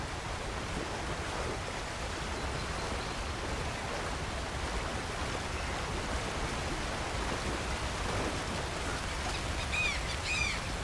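A waterfall rushes in Red Dead Redemption 2 with a constant, dense broadband roar that holds steady the whole time. Faint bird chirps rise above it near the end.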